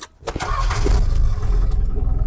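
A Toyota Dyna Rhino truck engine fitted in a hardtop cranks and catches, then settles into a loud, close, rumbling idle after a brief click and rattle.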